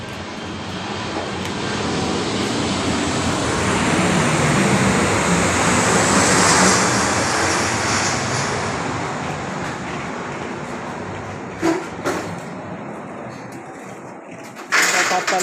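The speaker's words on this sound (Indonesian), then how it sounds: "Ada kapal lewat di atas sekolah" An airplane passes over a preschool, its engine roar swelling broad and loud to a peak midway, then slowly fading away, with a few brief nearby knocks and voices near the end.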